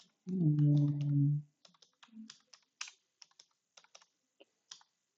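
Typing on a computer keyboard, a scattered series of light key clicks and taps, fairly close and quiet, after a brief burst of speech at the start.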